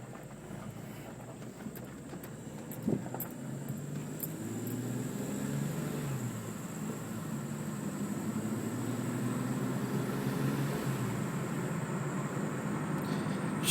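Car with an SMG automated gearbox driving in auto mode, a steady engine drone with rising and falling pitch as it shifts through gears, recorded from inside the cabin, with no talking.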